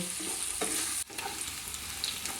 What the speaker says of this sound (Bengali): পেঁয়াজটাকেও আমি ভেজে নেব